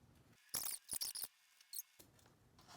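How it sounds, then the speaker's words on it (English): Scissors snipping out a paper shape for a craft unicorn horn, heard as a few short, crisp bursts of cutting close by with quiet gaps between, no talking. "I'm going to go then and grab my scissors. And I'm going to cut this shape out"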